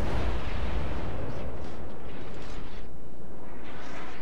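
A booming salvo of naval gunfire from World of Warships, dense low-end blasts rolling loudly through the whole stretch, sustained and heavy with no talk over it.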